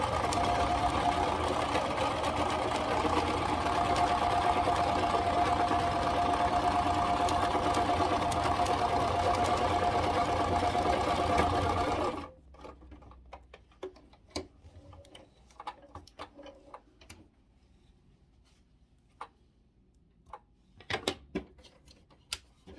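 A sewing machine runs steadily for about twelve seconds while stitching a Halloween kitchen towel, then stops, leaving scattered faint clicks and handling taps.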